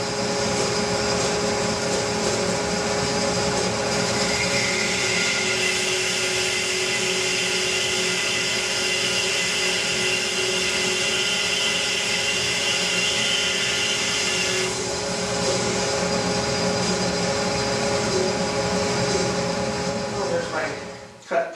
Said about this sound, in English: So the next thing to do is to take it over to the bandsaw and make that cut.